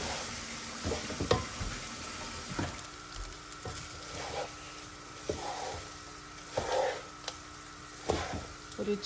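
Lemon rice (pulihora) with tempering of asafoetida, grated ginger, curry leaves and mustard seeds stirred in a pan: intermittent scraping and stirring strokes over a faint background sizzle, fairly quiet and close.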